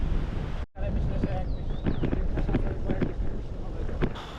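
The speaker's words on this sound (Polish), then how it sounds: "Teraz jest wiatr północno-zachodni." Northwesterly wind buffets the microphone in heavy gusts while cycling along the Baltic coast on the R10 route, with a brief dropout, and a voice is faintly audible under the roar.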